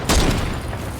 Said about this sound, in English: what you will see is Grandpa shooting down through the ground there